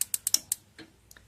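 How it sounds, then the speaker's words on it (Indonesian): Igniter of a gas water heater clicking: five rapid sharp ticks close together, then a softer thud and two fainter clicks, nearby with no talk. "ini adalah suara pemantik"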